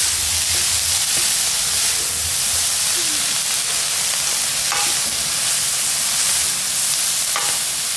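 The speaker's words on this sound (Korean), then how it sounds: "이거는 센 불에서 지금 볶고 있는 거죠?" Anchovies and shishito peppers stir-fried over high heat give a steady, loud sizzle, with a few faint clinks and scrapes from stirring and no voices.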